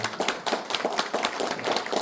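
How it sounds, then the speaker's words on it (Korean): An audience at a regional political rally in a city hall venue breaks into applause, a brisk burst of many hands clapping with audible individual claps, close and lively throughout with no talking. "격려의 박수 한번 부탁드리겠습니다."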